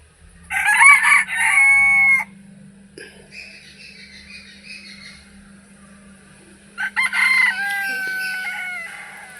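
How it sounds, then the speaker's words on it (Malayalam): A native country rooster crows twice on a farm, each loud drawn-out cock-a-doodle-doo rising and holding before trailing off, with a quieter stretch of birdsong and low background hum between the calls. "ഈ നിൽക്കുന്ന നാടൻ കോഴിയാണെന്ന് തോന്നുന്നു."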